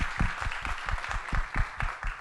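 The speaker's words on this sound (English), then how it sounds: "Applause please for them." Audience applause at a youth forum, a moderate sustained patter of many hands clapping in an indoor hall, steady and even throughout with no voices over it.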